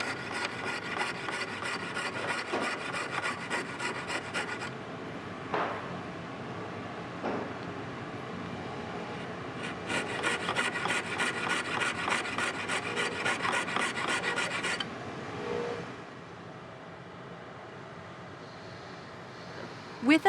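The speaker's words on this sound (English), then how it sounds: "Cut halfway through the Superfit blank where marked." Hand sawing partway into a Superfit blank for a straight bridge, a steady rasping stroke pattern running in two bursts with a quieter pause between and a fainter tail at the end.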